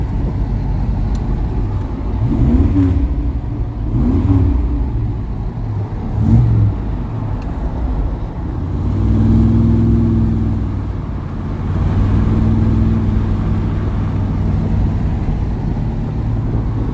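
A Chevy C10 square body pickup's 454 engine with a new exhaust hums and rumbles from inside the cab, rising and falling with several revs and accelerations over a steady road drone.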